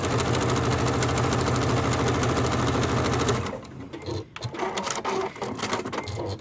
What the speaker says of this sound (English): just sew with this easy 1/4 inch seam allowance